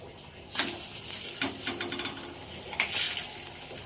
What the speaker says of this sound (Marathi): तवा गरम करायला ठेवून त्यावर थोडंसं तेल टाकायचं